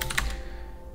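Someone types a command on a computer keyboard during a Void Linux setup, a brief flurry of close, crisp key clicks that quickly fades to quiet.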